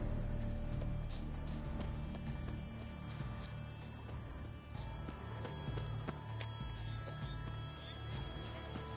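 Hooves clip-clop steadily from a horse, a steed, with a brief whinny and some mechanical rattling mixed into a dense, continuous background.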